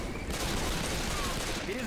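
Sustained automatic gunfire rattles in a video game as a dense, continuous burst, with a voice speaking over it.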